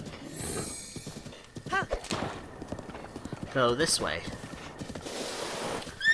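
Horse hooves galloping in the video game Zelda: Breath of the Wild, a fast rhythmic clip-clop with a neigh partway through, heard under a man's speech.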